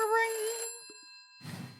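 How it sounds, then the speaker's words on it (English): A telephone rings with a bright, tonal bell that holds for a moment, then fades, followed by a short burst of noise as someone speaks nearby. "Oh, another phone call."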